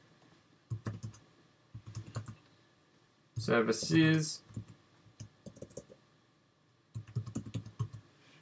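Soft keyboard clicks from typing on a computer keyboard come in short bursts between stretches of someone talking while coding in Xcode.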